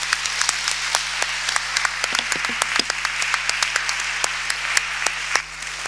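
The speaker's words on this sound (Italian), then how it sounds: "Let's say an applause." An audience applauding after Wole Soyinka's honorary fellowship lecture at Ca' Foscari, steady dense clapping from many hands that stays even throughout and drops off sharply near the end.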